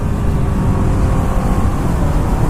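Kawasaki Ninja 2016 Ninja 650 motorcycle engine roaring steadily and loud as the rider pops a small wheelie off a bump, with dense wind and engine noise throughout.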